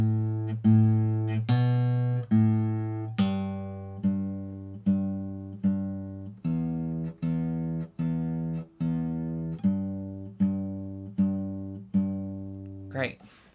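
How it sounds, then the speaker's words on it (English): A soloed bass line from a song's chorus repeats plucked notes in an even, steady rhythm, each note sustaining and decaying before the next, clear and alone for over ten seconds. "The bass sounds like this."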